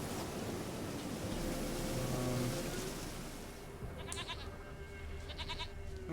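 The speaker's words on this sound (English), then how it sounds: "Here, goat." A goat bleats in a video game set in wolf-filled wilds, one wavering call rising briefly above a steady hiss of ambient noise.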